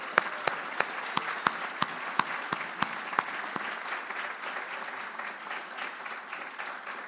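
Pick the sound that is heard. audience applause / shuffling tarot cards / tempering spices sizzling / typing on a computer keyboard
audience applause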